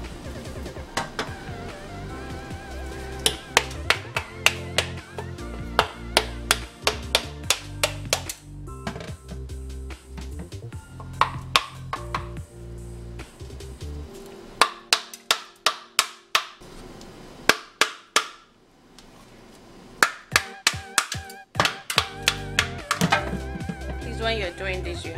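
A coconut being broken open by hand, struck repeatedly with sharp, hard knocks in uneven bursts, some loud and close, with quieter stretches between; a person talks through much of it.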